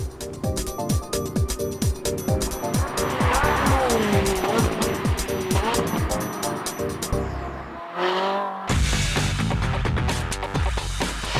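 Ferrari 458 road car and a Formula One car launching hard under launch control, loud high-revving engines surging up through rapid gear shifts with tyre noise, a brief near-silent gap, then engine roar resuming.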